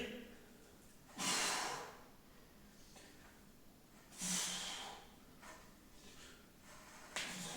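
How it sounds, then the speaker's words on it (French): Three forceful breaths during push-ups, each a sharp hissing exhale spaced about three seconds apart, close and fairly loud over a quiet background without talking. "Je vais descendre, j'inspire et je souffle en poussant."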